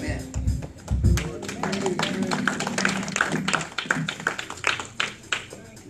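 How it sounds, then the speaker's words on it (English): Congregation clapping hands in rhythm during a church service, a steady run of sharp claps with voices over them throughout. "Don't stop clapping your hands."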